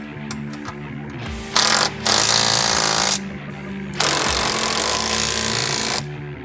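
A power tool tightens the sway bar link bolt and nut on a Can-Am Maverick R, firing in two loud rattling bursts of hammering impacts separated by a short pause, with a quieter hum beforehand.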